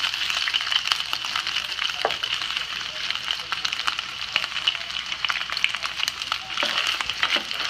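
Carne con chile and beans stirred in a pot, a continuous crackling, bubbling hiss with frequent small scrapes and clicks, fairly quiet and close.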